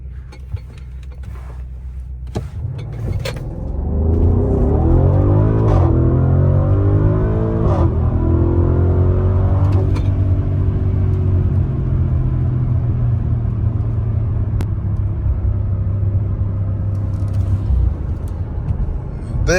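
An Audi SQ7 with a V8 in sport mode launches from a standstill to 60, its engine rising from a low rumble into a strong, steady roar that climbs through the gears inside the cabin.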